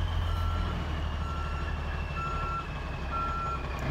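A tow truck backing up, its steady backup alarm beeping in regular pulses over a loud, continuous diesel engine rumble nearby.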